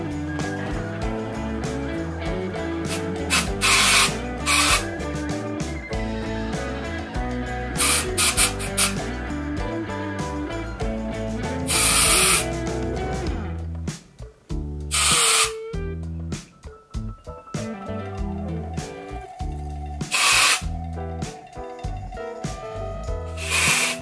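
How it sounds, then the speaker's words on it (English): Several short, loud hissing bursts of a hair product sprayed onto hair roots, spaced a few seconds apart over steady background music. "Flip it over and spray it,"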